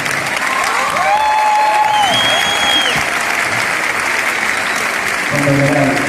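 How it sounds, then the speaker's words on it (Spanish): Audience applause fills a live folk music performance, a steady dense wash of clapping from a crowd throughout, with faint tonal sounds and brief voices mixed in. "Y un aplauso a la Concha de Casmonte."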